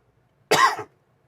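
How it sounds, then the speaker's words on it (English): A single short, sharp cough from a person recovering from COVID, close and loud, alone against near silence. "Still coughing a little bit."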